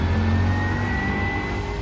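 A motorcycle engine revs close by, a loud, steady mid-pitched drone with a faint high whine running over it, nearly two seconds long with no speech.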